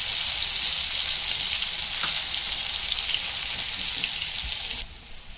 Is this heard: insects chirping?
no